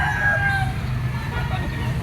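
A yellow-legged stag rooster crows at a gamefowl seller's yard in Padre Garcia, Batangas, a short call heard over a low rumble of background noise.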